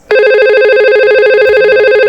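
A simulated Cisco VoIP telephone rings loudly and steadily in a warbling electronic tone that starts abruptly and continues without a break, with no voices.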